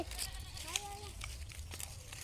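A goat gives a single short bleat on a farm with goats and cows, faint and somewhat distant over low background noise.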